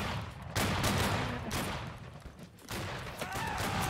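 Civil War reenactors fire black-powder rifles at will, a ragged series of loud, close cracks spaced irregularly across a few seconds, with scattered shots and some distant voices between them.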